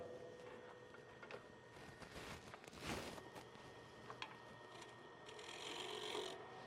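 Shear scraper finishing a wooden bowl turned from a branch on a lathe, a steady low rasping hiss under the motor's hum, faint and continuous with slight swells.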